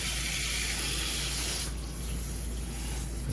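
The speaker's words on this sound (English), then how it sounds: "So that'll just drain water from the water heater," Water rushing out of the drain of a Jandy pool spa heater, a strong continuous hissing spray that eases slightly partway through, close and loud with no talking.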